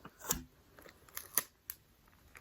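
Adhesive tape is stuck down to seal a plastic craft bag, giving a few crisp, crackly rips and presses spaced across a couple of seconds, close and fairly quiet with no talking.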